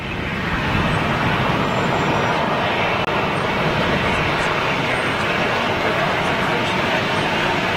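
An Icelandair jet airliner passes overhead as a broad, steady roar that holds loud and even throughout, with people talking over it.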